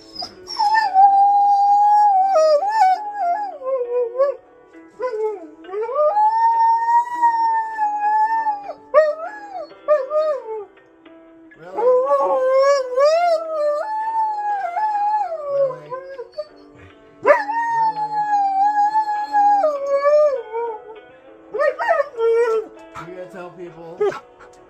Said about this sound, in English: you may hear my dog whine and complain in the background